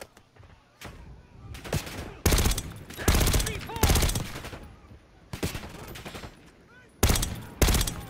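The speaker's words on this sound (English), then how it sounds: "Stop shooting at me!" Gunfire in Call of Duty Black Ops 6 comes in repeated loud bursts of rapid automatic shots separated by short quieter gaps, with some talk in the background.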